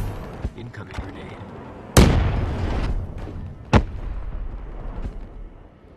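Two sharp grenade blasts in the Black Ops 3 video game: a loud explosion with a rumbling tail, then a shorter second crack, set against ongoing battle noise.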